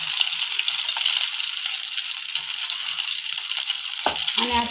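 Egg, potato and onion batter cooking under a lid in a pan on low gas, a steady bright sizzle and hiss heard up close, with a brief clatter and faint voice near the end.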